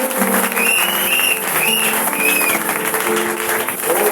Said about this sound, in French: Acclamons très très fort le Seigneur.